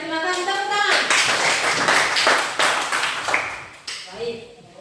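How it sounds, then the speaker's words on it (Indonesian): A classroom of students claps for a few seconds after a student's reflection, a brisk patter of hands with a voice and other talk mixed in. "terima kasih, tepuk tangan."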